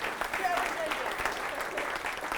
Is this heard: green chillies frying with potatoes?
no